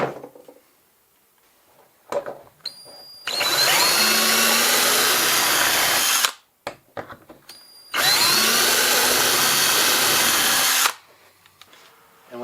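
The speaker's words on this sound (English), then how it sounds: "And we drill those right through the plate." A power drill bores through a plate during pulk sled assembly, two sustained high whining runs of about three seconds each, separated by brief clicks and handling knocks, loud and close.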